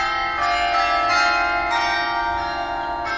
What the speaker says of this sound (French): c'est le carillon qui donne le top départ, celle de test numéro 1